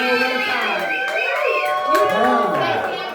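Crowd at a comedy show cheering and whooping for comedian Charles Wood, a loud burst of overlapping shouts and high-pitched cheers close by, over about three seconds.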